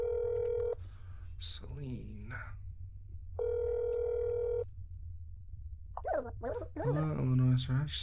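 Two long electronic phone rings sound in That's Not My Neighbor, each about a second of steady buzzing tone with a pause between, followed by a phone voice answering.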